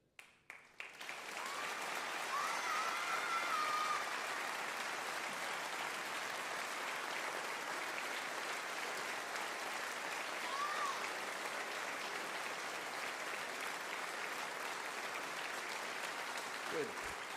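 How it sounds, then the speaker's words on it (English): Sustained audience applause at a live WoodSongs concert broadcast, steady and full from start to finish, with a brief ramp-up at the beginning and a faint voice near the end. "Just regular applause."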